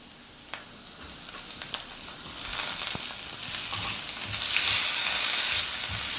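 Chopped onions and soaked moong dal fry in a pan over a medium flame, a soft sizzle that swells louder midway with occasional light clicks of stirring.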